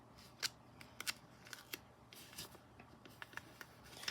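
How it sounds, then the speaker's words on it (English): Tape or film being peeled off by hand, a series of short crisp tearing and crackling bursts with small clicks, close and fairly quiet, with no talking. "I am going to peel this off as well."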